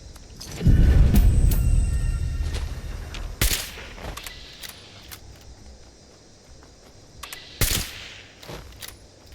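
Gunfire in the video game Fallout 76: a rumbling burst near the start, then a few sharp isolated shots at intervals over a quieter game background, with no talking.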